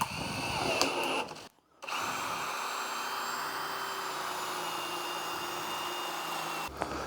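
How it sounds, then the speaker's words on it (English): A power drill whirs steadily as it bores a hole in wood, pausing briefly partway through, then resumes and runs on until it stops near the end. "So let's drill this hole."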